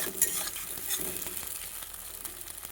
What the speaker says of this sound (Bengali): দুটো ডিম ডিমটাকে এবার কিন্তু ভালো করে আমি ভাজা ভাজা করে নেব